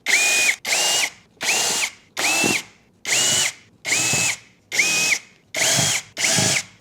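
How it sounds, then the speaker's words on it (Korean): A power screwdriver backs screws out of a Winia stand fan's lower vent grille, whirring in nine separate short bursts, each a steady high-pitched spin with a slight rise in pitch, evenly spaced with brief pauses between, close and clear. "자, 신나게 나사 분해합니다."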